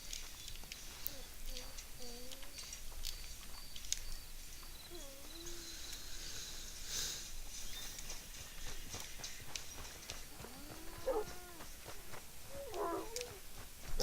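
A cat in the video game Red Dead Redemption 2 gives several short, rising meows over a steady ambient bed, with soft hoof clip-clop and footsteps nearby.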